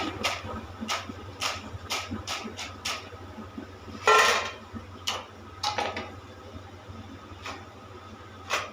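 Crispy fried aloo pakoda being handled in a home kitchen, giving sharp light crackles and clicks scattered unevenly, with one louder rustling burst midway, against a steady low hum.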